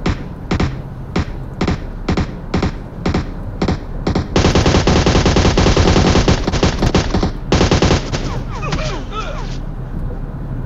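PUBG Mobile gunfire, first in rapid separate bursts, then long sustained automatic fire, loud and close, with faint voices under it in places.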